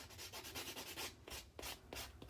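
A nail buffer rubs back and forth across fingernails before dip powder, making close, quiet, rhythmic scratchy strokes of about a dozen quick passes with no voices.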